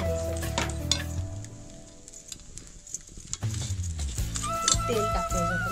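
Dried coconut roasts in a pan for a prawn masala, giving a close, steady sizzle with frequent scraping stir strokes and light clinks of utensil on pan, with someone talking over it.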